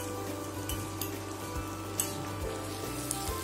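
A steady, quiet sizzle rises from a hot pan of palak vegetable biryani masala as cooked rice is tipped in, with faint stirring taps and crackles over a constant low frying hiss.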